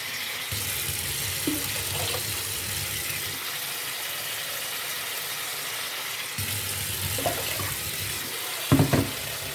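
Water runs steadily into a pot of washed wheat being readied for boiling, a continuous rushing flow with a couple of brief clinks near the end.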